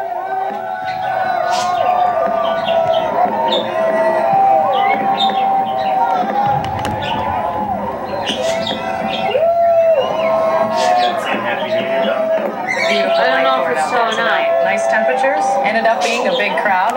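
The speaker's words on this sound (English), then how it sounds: "Ended up being a big crowd." A big crowd cheers and whoops at New Millennium midnight fireworks, a steady roar of voices and babble sustained throughout, with nearby people talking over it.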